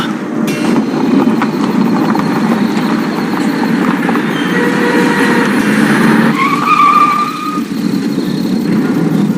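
An ambient car engine rumble holds steady throughout, with a brief higher screech as the car slows and halts along a night road on the way to a wife's parental home.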